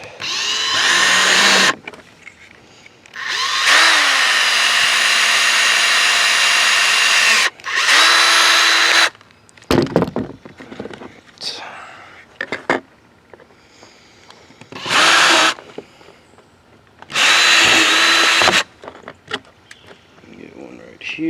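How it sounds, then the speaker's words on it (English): A power drill drilling out rivets, whirring in several loud bursts separated by pauses, with handling clatter and a voice speaking in the quieter gaps. "First, we're drilling it."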